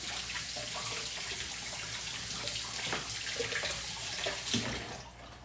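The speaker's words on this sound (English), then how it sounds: "Give it a good rinse." Water runs steadily from a tap while a hand mask is rinsed off during a DIY spa manicure, a close, continuous splashing stream with small shifts as hands move through it.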